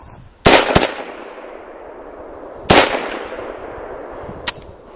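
Rifle shots fired at an outdoor target, two sharp, loud cracks close by with a quick echoing tail, followed by a smaller metallic clack.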